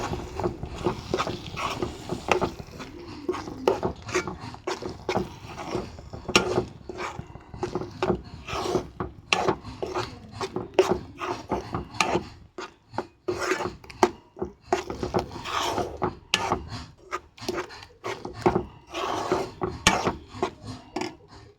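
Thick coconut paste being stirred into Kerala-style onion theeyal curry in a pan, giving a steady run of close scraping and rasping spoon strokes in an irregular rhythm, with no talking.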